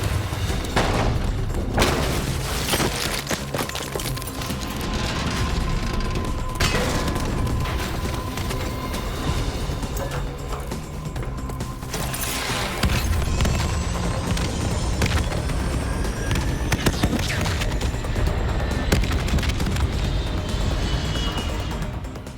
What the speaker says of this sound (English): The NRC have launched a missile barrage.